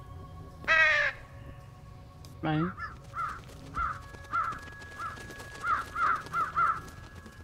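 Crows cawing in the Truberbrook video game: a couple of loud, drawn-out calls followed by a series of shorter, repeated caws over quiet ambience, with a brief spoken word.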